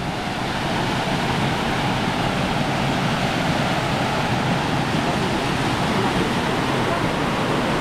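Water rushes steadily over a remote dam waterfall, a dense, loud, unbroken roar of broadband noise that holds evenly throughout.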